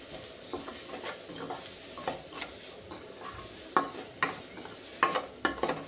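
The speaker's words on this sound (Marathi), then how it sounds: "सर्व मिक्स करून घ्यायचं आहे छान" Turmeric, salt and chili powder are stirred into food frying in a pan for an Indian vegetarian thali: brisk, close metal scrapes in an uneven rhythm over a continuous sizzle, with no talking.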